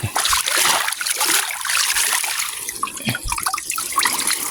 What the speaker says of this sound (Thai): เทน้ำกันเลยครับผม